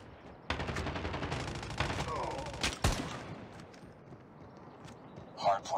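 Rapid automatic gunfire in the mobile shooter Call of Duty Mobile during a Hardpoint team deathmatch, with dense bursts of shots and sharp cracks, loud and close, with game voice announcements mixed in.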